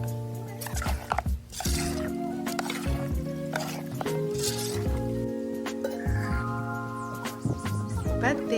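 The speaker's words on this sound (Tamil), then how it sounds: "சேர்த்துட்டு இது ஒரு 5 மினிட்ஸ் நல்லா வதக்கி விடுங்க" Marinated mutton sautés in a pan over a wood-fired stove, with wet squishing, sizzling and stirring scrapes throughout while a person talks over the cooking.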